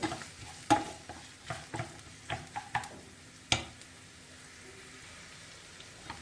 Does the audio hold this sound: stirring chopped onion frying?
yes